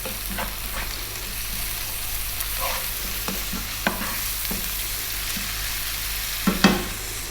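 Ginger garlic paste and salt fry in a pan with a steady sizzle while a spoon stirs, scraping and tapping at the pan with irregular knocks that grow louder near the end.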